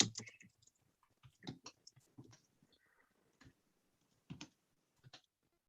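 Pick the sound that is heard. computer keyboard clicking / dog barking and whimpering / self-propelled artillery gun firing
computer keyboard clicking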